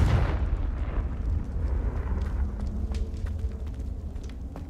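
The Confringo fire spell goes off in Hogwarts Legacy with a heavy explosive boom at the start, then a rumbling tail broken by scattered smaller pops and crackles, and no talking.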